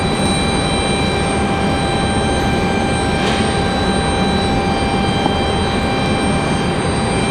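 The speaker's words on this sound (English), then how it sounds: "So it's always good to see a C-130" A C-130 military transport aircraft at an airport, heard as a steady, loud broadband engine roar that holds level throughout with a faint high whine riding on top, no voices.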